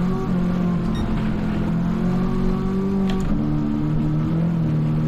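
Supercharged car engine in a Gran Turismo 7 rally race, revving steadily and loudly throughout, its tone dipping briefly as it shifts before climbing again, with no talk over it.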